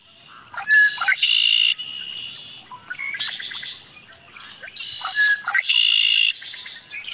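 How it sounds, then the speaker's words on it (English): Red-winged blackbird calls repeatedly in a spring setting, with bright buzzy trills and sharp chirps arriving in three or four bursts with short quiet gaps, clear and fairly close with no voices. "Red-winged blackbird."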